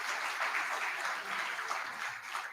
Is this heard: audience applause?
yes